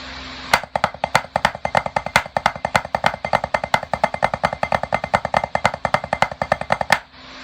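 Drum rudiment practice with flams and taps, right hand leading, played alone on a snare drum: a steady, fast stream of crisp strokes in even rhythmic groupings, close and loud, ending abruptly.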